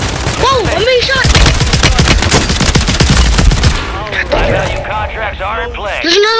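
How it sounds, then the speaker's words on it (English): Rapid automatic gunfire in Call of Duty: Modern Warfare III, dense bursts of shots stacked close together under excited, shouting player voices, easing off toward the end. "I'm being shot!"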